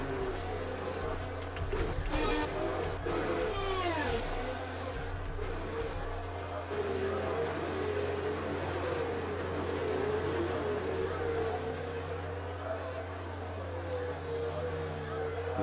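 Racing cars in the CRC racing game, a pack of engines droning steadily with shifting pitch, a few passing whines early on, under light commentary.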